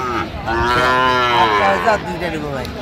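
A bovine moo at a cattle market where Sahiwal bull calves are sold, one long, loud, close low call rising and falling for about two seconds, alone without talk.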